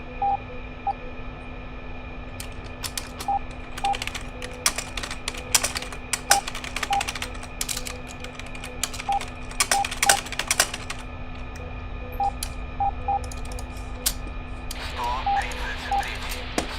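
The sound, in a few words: typing on a computer keyboard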